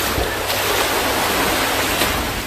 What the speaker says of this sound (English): What a beautiful beach.